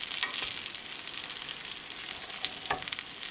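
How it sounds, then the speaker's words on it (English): Lamb chapli kebab patties frying in a pan over a medium flame, a steady close sizzle with faint crackles and brief stirring or scraping noises, no talk. "So now we're going to cook 2 minutes on medium flame on this side."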